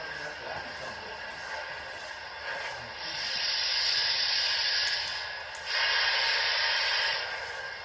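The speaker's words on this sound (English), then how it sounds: "let's go ahead and listen to the startup here" Steady steam hiss rises and swells in two bursts, a soft chuffing blow-off from a model Southern Pacific GS-4 steam locomotive starting up, moderately loud and close.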